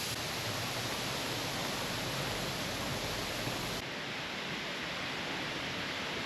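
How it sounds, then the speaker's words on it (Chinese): The first waterfall on the Taixing waterfall trail in Meishan, Chiayi, rushes in a dense, continuous roar. It is close and loud, with no voices. "就遇見第一座瀑布"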